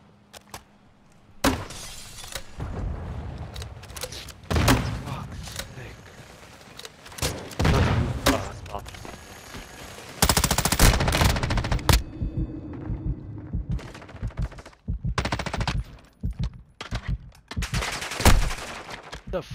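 Video game shootout with bursts of loud gunfire and sharp shattering impacts, scattered irregularly across the clip, while players talk excitedly over the shots.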